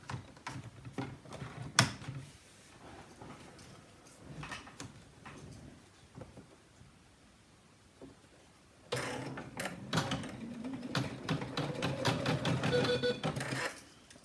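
An embroidery machine sews pink applique fabric, starting with scattered clicks and knocks as the hoop is fitted, then a dense, rapid stitching rattle that holds steady through the final seconds.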